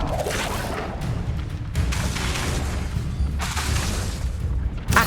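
The Incendio fire spell in Hogwarts Legacy goes off as a sustained roaring, booming burst of flame, loud and dense throughout, with swelling surges rather than a single blast.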